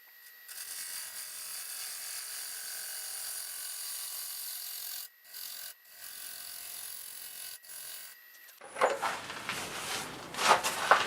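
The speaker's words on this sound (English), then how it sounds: "switch to my 1/2 inch bowl gouge." A half-inch bowl gouge cuts walnut on a wood lathe, a steady high scraping hiss broken by brief gaps, then rougher, uneven cutting noises toward the end, close up with no talking.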